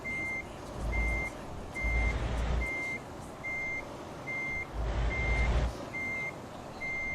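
In the Euro Truck Simulator 2 game, a truck reverses with a regular string of about nine evenly spaced high beeps, clear and steady, while the engine rumble swells and fades beneath them.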